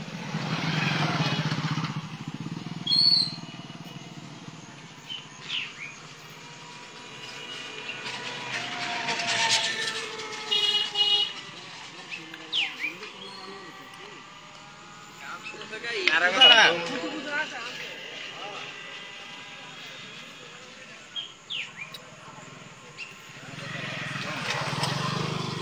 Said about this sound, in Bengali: মাঝে মধ্যে একটা দুইটা কিন্তু গাড়ি আসছে